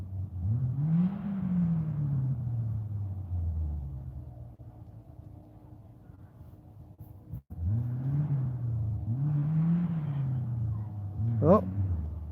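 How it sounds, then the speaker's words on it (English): An engine rumbles close by and revs in slow rising and falling swells, with a brief drop and sharp break midway before the revving resumes. "I'm waiting for the kapow as the engine blows"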